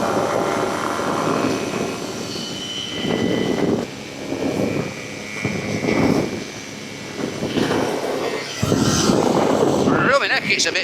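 Light aircraft engine in a cruise climb, a steady droning hum with propeller tone that surges and fades in waves throughout, heard from inside the cockpit with no talk.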